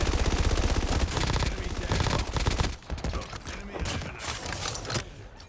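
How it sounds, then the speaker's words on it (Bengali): Rapid automatic gunfire from the Call of Duty Mobile video game, loud dense bursts of shots for several seconds before it thins into scattered, more distant shots. "খোলা ময়দানে গুলি পড়ছে কোথা থেকে?"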